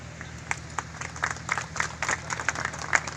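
A political rally crowd applauds, a steady wash of many hands clapping at moderate distance, fairly soft, with scattered sharper claps throughout.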